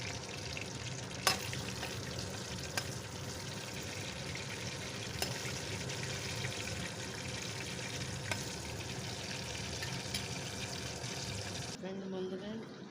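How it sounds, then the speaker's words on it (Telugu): Spice powders are stirred into brinjal masala in a frying pan, giving a soft steady sizzle with scraping and occasional spoon taps against the pan throughout, cut off abruptly at the end. "అన్నీ వేసి ఈ విధంగా కలుపుకోవాలన్నమాట."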